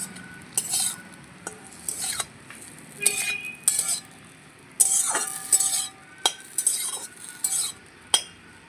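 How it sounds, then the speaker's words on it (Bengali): Bread slices frying in ghee for a sweet dish, with a soft sizzle beneath repeated sharp clinks and scrapes of a utensil against the pan in irregular bursts, close and clear, no voices. "এই ঘিয়ের মধ্যে আমি এই পাউরুটিগুলো দিয়ে ভালো করে একটু ভেজে নেব।"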